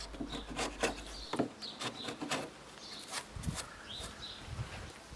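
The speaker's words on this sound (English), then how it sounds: "Run your chisel along the side of the cut to remove these ragged chips" A chisel pares ragged chips from the side of a cut in a wooden half lap joint, giving soft, intermittent rubbing and scraping strokes. The sound is close but quiet, with faint birdsong in the background.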